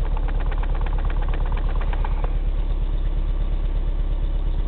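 Steady, close engine idle from a car or truck after a thermostat change, a continuous low rumble with a rhythmic knocking pulse that smooths out partway through, with no voices.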